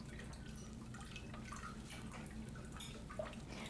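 Water poured over leeks in a kitchen to rinse out dirt, a steady dense splashing and trickling stream with scattered drips, continuous and fairly close throughout.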